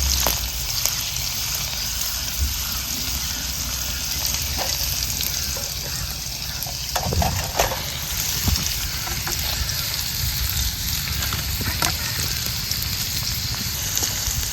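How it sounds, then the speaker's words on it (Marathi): Garlic and cumin roasting in oil in a hot kadhai give a steady, close sizzle and crackle with faint stirring scrapes throughout. "लसूण पण चांगला भाजलाय जिरं पण आपलं चांगलं आहे"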